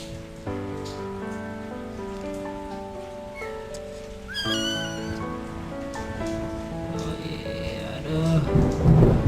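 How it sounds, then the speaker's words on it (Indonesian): Steady rain falls on a surface at a home where kittens are being bottle-fed, with a low thunder-like rumble swelling near the end and tonal sounds layered over the constant patter. "Nikmat bro, hujan-hujan."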